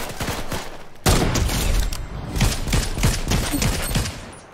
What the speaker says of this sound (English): I've got a stupid burst rifle.